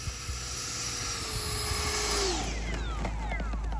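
Freewing 80mm EDF MiG-21 RC jet with an outrunner motor, a steady loud ducted-fan whine with a falling pitch sweep as it passes, heard outdoors from close range.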